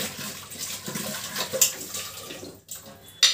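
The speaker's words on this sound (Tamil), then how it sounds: "ஆனியன் டமாட்டோஸ் எல்லாம் வாஷ் பண்ணிக்கலாம்" Onions and tomatoes are rinsed under running tap water, a steady close splashing wash with brief clatters and a short pause near the end, no talking over it.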